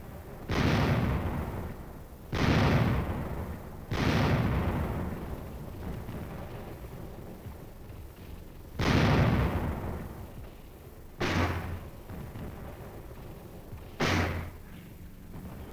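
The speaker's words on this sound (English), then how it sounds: "Four artillery battalions, supported by napalm bomb-carrying aircraft, were brought up to support the assault." Korean War artillery barrages and explosions during an assault on entrenched North Korean hilltop positions: six heavy booming blasts, each with a long rumbling decay, spaced a few seconds apart over a continuous low battlefield rumble.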